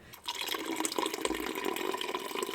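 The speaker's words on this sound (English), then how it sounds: "we need to fill up on some water" Water running from a tap to fill a container, a faint, continuous splashing trickle heard close up.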